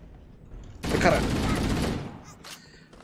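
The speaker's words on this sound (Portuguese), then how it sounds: "Tô ouvindo barulho de tiro" Gunfire in Halo: Combat Evolved, a dense burst of rapid shots that erupts suddenly, stays loud for about a second, then fades into a quieter rumble and a few scattered later bursts.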